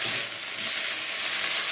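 Bottle gourd leaves with a little salt sizzling in a pan over a low flame as they are stirred, giving a steady, close hiss throughout with no voices.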